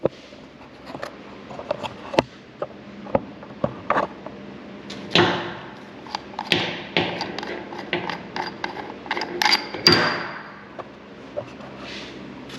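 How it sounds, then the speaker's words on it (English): A washer being worked off a RAM 1500 shock absorber gives a scattered run of sharp metallic clicks, taps and small clinks, some louder than others, close by with no talking. "This washer, let me take this off real quick."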